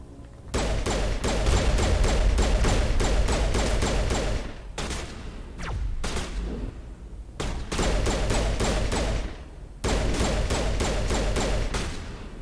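Sustained automatic gunfire against Geth in Mass Effect Legendary Edition, long rattling bursts broken by brief pauses, loud and close, with a couple of short sharp gaps between volleys.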